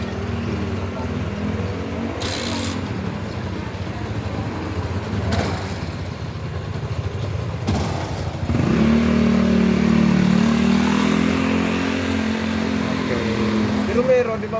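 Busy street traffic with cars and motorcycles rumbling past, engines growing louder and heavier midway as a motorbike revs nearby, with voices talking over the steady road noise.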